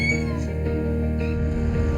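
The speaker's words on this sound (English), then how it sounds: "Distracted by a cute kitten, yet again." A kitten on a Yorkshire farm meows close by, a few short, plaintive calls standing out over a steady low background hum.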